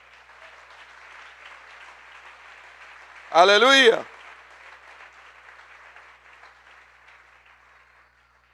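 Congregation applauding in church, a steady, moderately loud wash of clapping throughout, with a voice shouting briefly over it midway before the applause thins and fades at the end.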